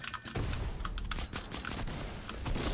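Rapid AK assault rifle fire in Fortnite, a dense run of close shots spread across the whole clip with faint clicks and game effects mixed in.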